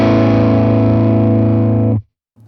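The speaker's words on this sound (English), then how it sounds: "I'm going to engage the compressor." Electric guitar through a Morgan amp with a compressor pedal on, a loud, even, sustained chord that rings steadily with no decay and then stops abruptly, with nothing else heard.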